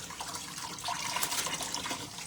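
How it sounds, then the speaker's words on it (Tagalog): Lemongrass is rinsed under a running kitchen tap, water splashing in a steady close hiss with no talking. "Hugasan ko muna yung tanglad."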